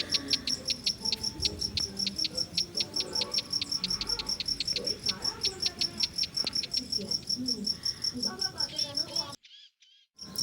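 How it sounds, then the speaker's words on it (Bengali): Crickets chirp in a steady, rapid pulsing trill near a river, with birds calling in and out beneath them and faint background noise, before the sound cuts out briefly near the end. "পাখির ডাকগুলো শুনতে পাচ্ছ"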